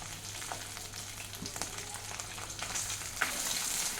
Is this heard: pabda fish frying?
yes